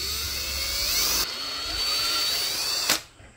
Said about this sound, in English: Now we need to just drill a hole.